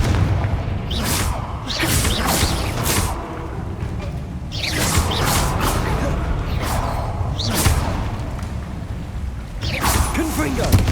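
Several Confringo fire-blast spells from Hogwarts Legacy go off in separate booming bursts with whooshing tails, spaced a few seconds apart over steady game background sound.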